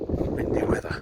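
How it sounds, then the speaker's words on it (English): Wind buffets a phone microphone outdoors on boggy ground, producing low, rumbling gusty noise that fluctuates in strength, with a voice partly mixed in. "So yes, this wind has just picked up."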